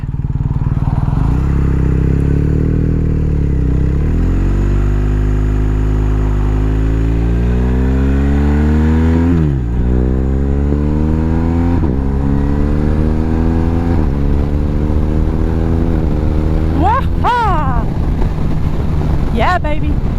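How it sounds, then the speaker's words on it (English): BMW R 1250 R motorcycle exhaust under way on new tires, a steady loud drone rising and falling through several gear changes, with near-constant wind rush and road noise. "I like the sound of this exhaust."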